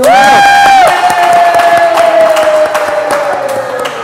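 A podcast studio audience cheers and claps, with one loud sustained whoop sliding downward over rapid, close hand claps.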